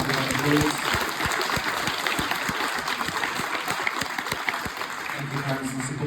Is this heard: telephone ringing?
no